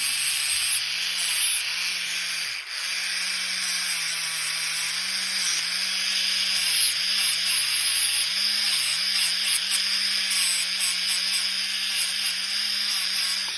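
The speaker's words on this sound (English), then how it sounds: "We're buffering out all the scratches and stuff and all that to make it look nice." A polishing buffer works steadily over a scratched surface, a continuous loud hiss and whir with a low hum that dips and wavers as the pad is pressed and moved.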